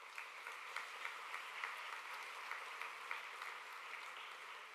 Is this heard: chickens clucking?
no